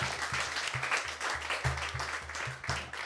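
A congregation claps during a live-streamed church service, with steady rhythmic clapping over a repeating low beat for a few seconds and no voices.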